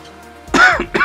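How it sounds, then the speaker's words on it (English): A single throat-clearing cough from a person with a lingering cough, close and abrupt, followed by a short second burst. "I still have a cough"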